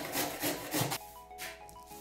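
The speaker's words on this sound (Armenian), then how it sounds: "սկսում ենք քերել կարտոֆիլը, ես 3 հատ կարտոֆիլ եմ քերում, 3 մեծ չափի կարտոֆիլ եմ" Raw potatoes, three large ones, rubbed by hand against a grater in a home kitchen, giving repeated rough scraping strokes in a steady rhythm, close and moderately loud, with no talking.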